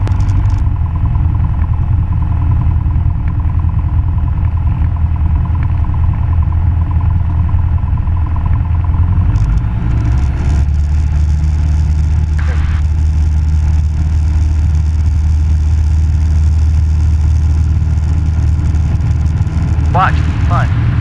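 A Cessna 172 Skyhawk airplane's piston engine drones steadily from inside the cockpit, a loud, continuous low hum that deepens and strengthens midway as power increases, with faint radio chatter and people talking under the noise.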